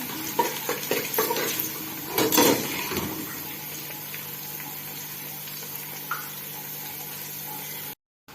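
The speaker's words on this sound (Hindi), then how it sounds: "अब इसके अंदर साबुत गरम मसाला डाल दें और इसको 1 से 2 मिनट फ्राई करें" Chopped onions and whole garam masala sizzle and fry steadily in a pan, with spoon-stirring scrapes and a louder clatter early on over continuous hiss, then an abrupt cut at the end.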